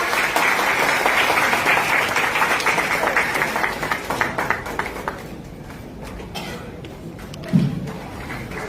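Loud applause from a community gathering crowd fades out over several seconds into scattered claps and a single thump, and a voice is faintly present.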